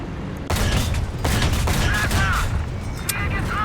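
Repeated cannon fire from the German Sd.Kfz. 6/2 self-propelled anti-aircraft halftrack in War Thunder realistic battles, a dense burst of loud shots starting about half a second in and continuing almost without pause, with game noise underneath.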